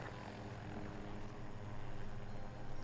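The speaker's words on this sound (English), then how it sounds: "How the hell do you fly a helicopter?" A helicopter in the video game Battlefield 2042 flies with a low, continuous rotor thrum and engine drone. The sound is steady and fairly quiet, with no speech.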